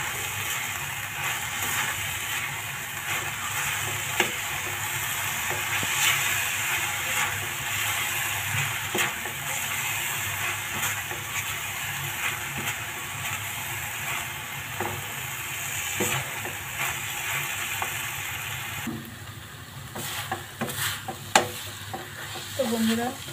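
Grated coconut with cashews and almonds frying in a pan for puli pitha filling, giving a steady close sizzle with frequent scraping and stirring strokes throughout, alone without talk.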